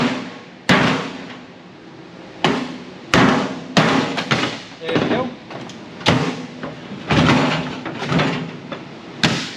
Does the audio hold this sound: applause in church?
no